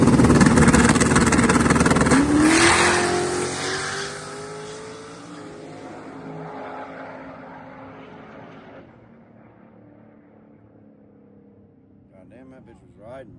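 A car with a driveshaft issue and traction control trouble making a drag racing pass, the engine roaring loud at launch then fading steadily into the distance, with a faint rise near the end.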